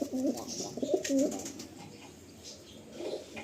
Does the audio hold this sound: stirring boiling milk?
no